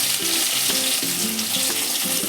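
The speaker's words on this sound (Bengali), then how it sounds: "এবারে দিয়ে দিচ্ছি পেঁয়াজ কুচি, টমেটো কুচি, কাঁচা লঙ্কা" Chopped onion, tomato and green chilli sizzle steadily in hot oil with dry red chilli and nigella, a dense continuous frying hiss with faint stirring clatter, close and alone without talk.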